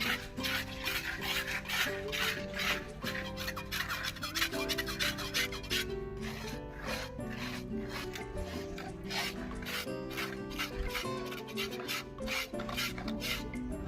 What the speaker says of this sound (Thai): ขัดหน้าปูนนะคะ